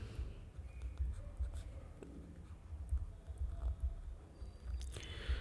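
A pen scratches across paper in soft, close strokes during a Hindi maths lesson on cuboid volume, faint irregular scribbling with short pauses, low room hum underneath.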